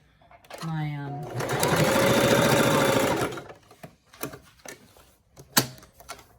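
A Singer Classic sewing machine stitching on scrap fabric, running in a steady, fast whirring burst for a couple of seconds before stopping, with a person talking before and after nearby.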